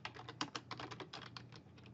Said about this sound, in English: you're going to type in exit sub